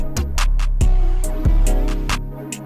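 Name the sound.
unconventional experimental beat playing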